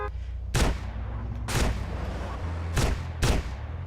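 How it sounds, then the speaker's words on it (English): Gunshots in a video game crossfire ring out as four loud, sharp bursts spaced irregularly over a steady low rumble, each with a brief ringing tail. "I love when I get caught in crossfire."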